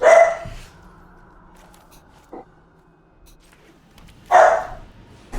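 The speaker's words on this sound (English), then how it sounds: "The other one's barking." A pet dog barks nearby, two sharp single barks a few seconds apart with quiet room tone between them.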